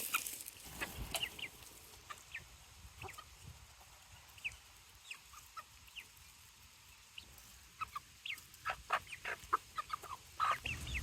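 Backyard chickens cluck in short, scattered bursts while pecking at homemade scratch feed, the calls fairly close and growing busier toward the end, with no talking.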